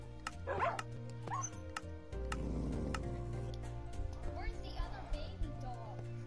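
Dogs in a PS4 video game bark and yip in quick repeated bursts, close and fairly loud, mixed with ticking game sounds and a steady low hum.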